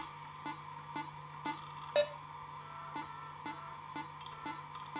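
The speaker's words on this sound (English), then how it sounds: "Please turn your volume up to hear the beeps." Calibration beeps in the rhythm game Rhythm Doctor tick at an even pace, about two per second, short and faint over a steady low hum.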